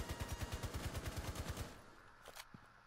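Rapid automatic gunfire in Rainbow Six Siege, sounding from downstairs: a fast, evenly spaced burst of about fifteen shots that stops abruptly, followed by a couple of fainter stray thuds.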